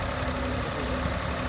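A Suzuki Wagon R engine idles on CNG with a steady, loud hum and a hard, slightly knocking rumble, close by and constant with no speech.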